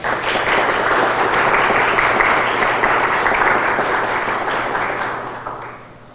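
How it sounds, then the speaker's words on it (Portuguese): An audience at a college gastronomy event claps for professors and visitors, a sustained loud round of applause that fades out in the final second. "uma salva de palmas a todos os professores desta instituição, visitantes e aos futuros profissionais da FAIP"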